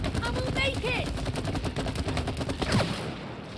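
Video game gunfire in It Takes Two: rapid automatic bursts rattle continuously under a talking voice, with shots and effects layered through the scene.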